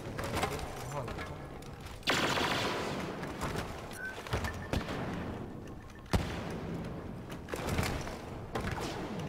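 Rapid bursts of gunfire and thuds during a competitive multiplayer shooter tournament match, dense and continuous with sharper shots scattered throughout, while players talk over it.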